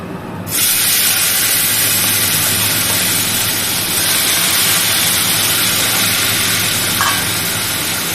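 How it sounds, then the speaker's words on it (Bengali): A loud, continuous hiss of lemon-marinated prawns frying in hot oil with turmeric, beginning abruptly after a moment and holding steady with a dense sputtering texture throughout. "চিংড়ি মাছটাকে আমি এখন ভাজবো"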